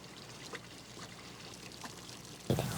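Water pours down a fish slide carrying hatchery fish on the Seymour, a soft continuous trickle and splash heard at a distance, ending in a louder, closer burst of rushing water.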